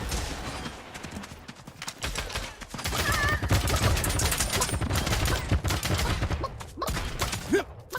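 Rapid automatic gunfire crackles in a Realm Royale match, bursts of shots at moderate loudness that thin near the start and then grow steady and dense, with a few isolated pops toward the end.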